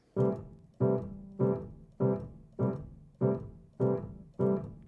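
Eight evenly spaced left-hand jazz piano chords struck one per beat in a low-middle register, each ringing briefly before the next, played alone at moderate volume.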